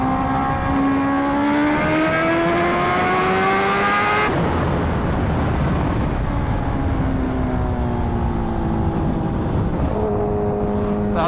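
A Kawasaki H2R motorcycle engine, fitted with a carbon tank and rotor delete, screams loudly while being ridden, rising in pitch through the gears with an abrupt shift midway, then climbing again, continuous and close.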